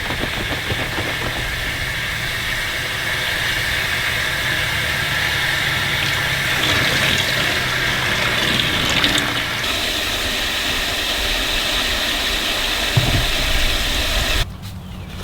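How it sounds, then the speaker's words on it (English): Water pours steadily into a trough, a continuous loud rushing hiss with a faint engine-like hum beneath, running unbroken for a long stretch before dropping off abruptly near the end. "I'm filling her up with water"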